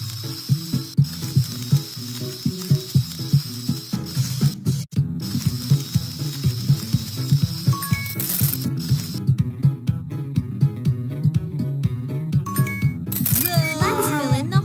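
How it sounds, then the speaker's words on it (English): Cartoonish ratcheting and clicking mechanical effects from a kids' pet vet clinic video game as a bad tooth is removed, rhythmic repeated clicks over a looping background music bed, with short chime-like tones. "Now it's time to remove the bad tooth and put in a new one."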